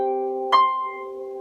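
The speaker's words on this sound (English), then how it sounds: "the shorter clarinet makes the higher sounds like this" A short clarinet sounds a high note that swells in and then holds steadily, a single clear sustained tone heard alone at moderate volume.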